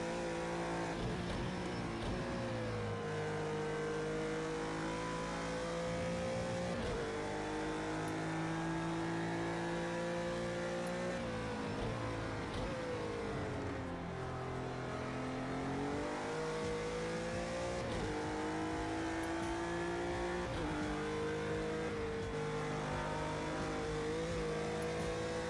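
A GT3 race car's engine roars continuously around the Bathurst circuit in Project Cars 2, its pitch climbing and dropping as it revs up through the gears and shifts, loud and steady throughout.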